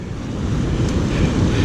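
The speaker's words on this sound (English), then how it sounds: "Watch those waves." Ocean waves surging against a rocky shore at a west-facing beach, a loud, broad continuous roar of surf mixed with wind buffeting the microphone, steady across the short stretch with no speech.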